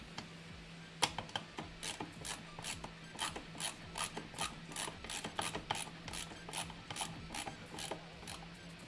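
Screws are tightened into the frame of an LDO Milo 3D printer with a ratcheting driver, a quick series of sharp clicks in an irregular rhythm, heard up close over a faint steady hum.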